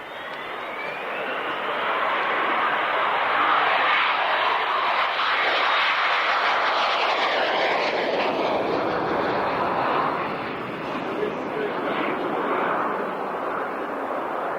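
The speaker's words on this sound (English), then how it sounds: "doing a touch and go, a rolling overshoot" A Harrier jet flies a touch-and-go landing, a rolling overshoot, at the 1996 International Air Tattoo at RAF Fairford. A loud, sustained jet roar swells and shifts in pitch as the aircraft passes, then holds steady without any voices.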